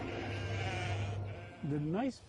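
Sheep bleating on a farm where the animals are kept to grow organs for transplant, a wavering cry rising near the end over a low background hum and a voice.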